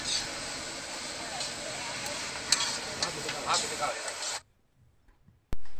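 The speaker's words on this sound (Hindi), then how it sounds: "इसी तरीके से इसको घुमाते रहिए" Grated carrots for a wedding-style gajar halwa are stirred in a hot pan, a steady loud sizzle with scraping stirs that cuts off abruptly near the end, followed by a brief sharp click.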